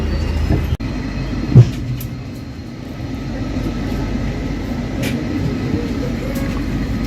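A passenger train rolls out of Yeshwantpur station with a steady, close low rumble heard from on board, broken by one brief knock early on.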